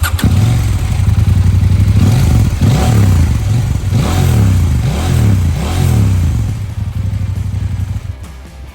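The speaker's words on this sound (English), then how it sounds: "As you can tell, the Acra obviously sounds better, it's meatier, it's bassier" A Husqvarna Norden 901 motorcycle fitted with an Akrapovic exhaust revs up close and loud, with a series of rhythmic throttle blips rising and falling over a deep idle, then settling back.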